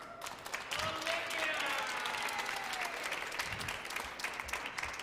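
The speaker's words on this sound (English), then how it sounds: "I feel like that applause was a little bit token" Arena crowd applauding as the top-seeded American player walks onto court at a professional squash tournament semi-final in Canada, steady moderate clapping from a sizeable audience sustained for about five seconds with faint crowd noise underneath.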